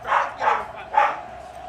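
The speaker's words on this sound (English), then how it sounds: "What are they barking at?" Several dogs barking in three loud, clipped bursts at a steady rhythm, fairly close, with no talk over them.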